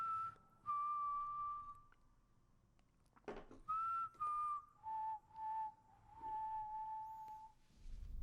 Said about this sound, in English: So whistling.